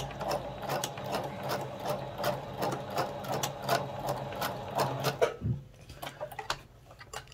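A sewing machine runs a zigzag stitch attaching millinery wire to a hat brim, a rapid steady ticking chatter for about five seconds before stopping, followed by a few quieter handling clicks.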